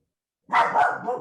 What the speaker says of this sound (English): The dog agrees. That's my dog.